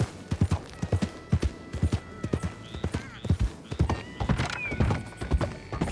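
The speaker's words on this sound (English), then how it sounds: "Clip clop, clip clop, clip clop." Horse hooves clip-clopping in Red Dead Redemption 2, a rhythmic run of close, distinct hoof strikes with a brief whinny partway through and faint tack and mechanism noises, no talking.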